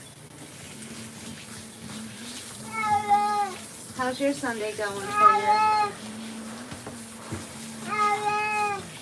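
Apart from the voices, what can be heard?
domestic cat meowing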